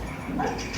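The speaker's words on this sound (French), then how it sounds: "Je vais regarder tous les chiens." Dogs in Minecraft give a short, soft bark against a faint game background, brief and fairly quiet, with no talk over it.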